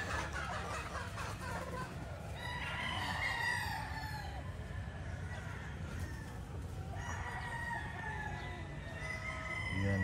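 A Boston Roundhead gamefowl rooster crows in long drawn-out calls, at least two distinct crows with harmonic wavering, over steady low background rumble and some clucking.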